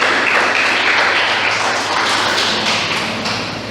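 A church congregation claps steadily to acclaim the Lord, a dense, loud, continuous wash of many hands that fades slightly toward the end.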